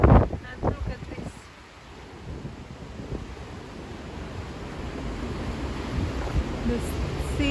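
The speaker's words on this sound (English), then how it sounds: "The sea is still very, very hungry, very angry." Rough, angry sea off Milos island, Greece, with heavy waves surging and wind buffeting the microphone, a loud continuous roar with thumping gusts near the start.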